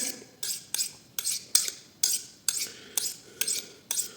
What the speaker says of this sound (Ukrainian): Тут тут три рухи і будь-який ніж на кухні поправлений.